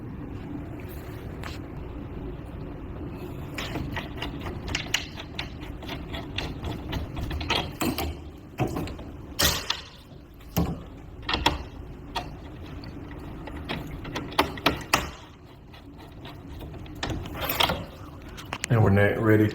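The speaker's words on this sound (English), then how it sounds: "I remove those 3 screws." Screws being backed out of a Square D 125 amp electrical panel conversion kit produce intermittent ratcheting clicks and metallic ticks, spread in uneven bursts over steady low background noise.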